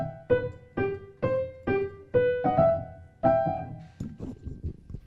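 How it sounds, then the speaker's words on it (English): Piano accompaniment for a duet played as a series of distinct note attacks in a moderate rhythm, close and clear, fading into softer scattered notes toward the end. "Now, I'd like to play the accompaniment."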